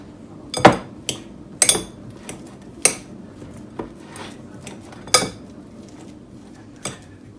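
Ripe leftover bananas mashed with a metal utensil in a bowl, sharp knocks and clinks striking every second or so, some doubled, over a soft background scrape with no talking.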